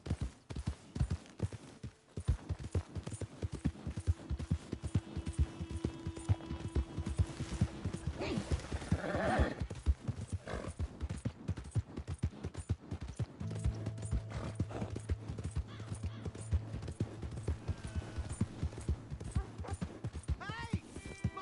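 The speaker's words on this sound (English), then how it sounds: "My horse!" A horse in the Red Dead Redemption video game trots steadily with rapid, continuous hoof clip-clops, then lets out a loud whinny partway through, with a low tone and ambient game sounds underneath.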